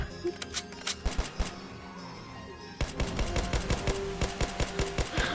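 Rapid bursts of gunfire ring out in a Roblox zombie uprising game, with sparse shots at first and then a louder, denser stretch of rattling fire toward the end.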